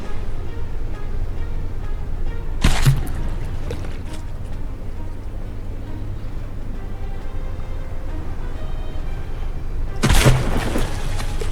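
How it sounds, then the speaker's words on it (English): Two loud booming explosions from a battleship battle in From The Depths, one early and one late, each a sharp broadband burst over a constant low rumble of engines and water. "Oh, that was a big explosion."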